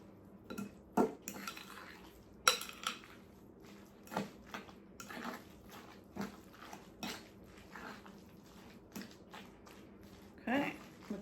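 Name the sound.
stirring the seasoned mixture together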